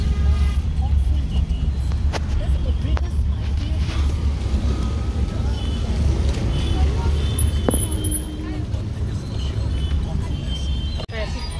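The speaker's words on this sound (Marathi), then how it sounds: "भयंकर ट्रॅफिक आहे, गाडी काढणं मुश्किल आहे।" Heavy road traffic heard from inside a car with the window open during rainy weather and roadwork, a steady low engine and road rumble throughout, with faint voices talking over it.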